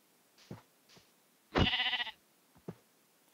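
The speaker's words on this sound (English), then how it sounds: "Let's kill the sheep." A sheep bleats in the video game Minecraft, one loud wavering bleat in the middle surrounded by several short soft thuds and footstep-like taps, with no talking.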